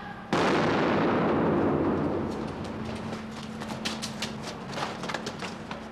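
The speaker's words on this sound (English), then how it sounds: "On hearing that last gunshot" A single loud gunshot cracks out at close range during a street crime reconstruction, followed by a long booming echo that fades into traffic-like rumble and scattered footsteps.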